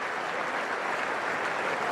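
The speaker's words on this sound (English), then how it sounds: "The Australians are applauding." Cricket crowd applauding Collingwood's double-hundred innings at Adelaide during the 2006-07 Ashes second Test, an even, continuous wash of distant clapping across the ground with no commentary over it.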